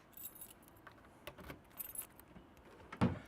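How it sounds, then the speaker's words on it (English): Keys on a ring jangle in short, scattered bursts while someone tries different keys in the trunk lock of a 1966 Chevrolet Nova Pro Street, ending with a louder clink. "See if I can figure out which one of these keys open the trunk."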